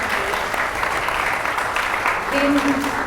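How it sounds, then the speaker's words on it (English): An audience at a book launch gives a sustained round of applause, steady dense clapping from a crowd that fills the room, with a few voices audible briefly near the end. "So Vin, so my brother, yes, round of applause."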